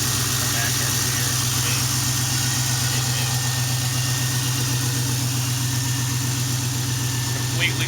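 A completely stock Chevrolet LS1 V8 from a Camaro idles steadily and close, its exhaust dumped under the car, giving a continuous even rumble with a faint rhythmic pulse throughout.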